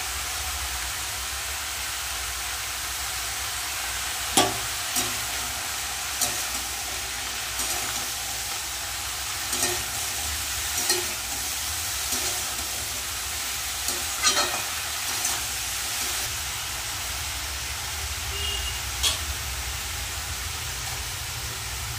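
Snake gourd slices fry in a pan with a steady, continuous sizzle and crackle, joined by occasional sharp spatters and stirring clinks, close and fairly loud throughout.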